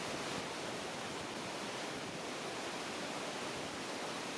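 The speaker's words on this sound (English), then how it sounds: "the Awash River, which plunges down a waterfall before carving through a deep gorge." A steady, dense roar of the Awash River plunging down a waterfall in Ethiopia fills the scene, constant and unbroken, like a powerful waterfall heard close up.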